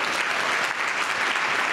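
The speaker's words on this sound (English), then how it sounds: "that I think also deserves a round of applause." An audience applauds at a business school welcome and introduction event, a steady, dense patter of many hands clapping at close range throughout, with no voices over it.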